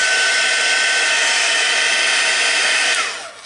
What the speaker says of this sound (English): Now I'm going to blast this with a heat gun very quickly.